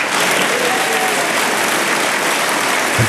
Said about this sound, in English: to invite a round of applause for enacting one of the main reasons why